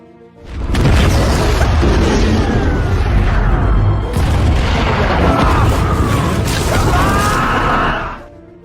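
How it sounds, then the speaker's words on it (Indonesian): A massive, sustained explosion in the war film Stalingrad roars and rumbles for several seconds, deep and loud, with crackling debris and a dramatic cinematic rush before fading. "digunakan oleh Kapten Peter Khan, hingga akhirnya terjadilah ledakan super dahsyat."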